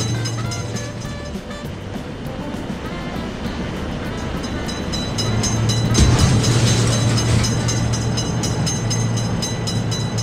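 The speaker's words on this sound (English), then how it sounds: "Train is in sight." In a video game, a train rolls through a railroad crossing, giving a steady rumbling drone with a persistent low hum and faint clacking that grows louder in the second half, with no voices.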